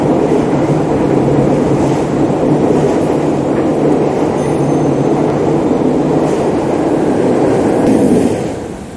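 Train rumbling past close by, a sustained loud low-frequency roar with rail clatter that holds steady for several seconds before fading out near the end, no talking.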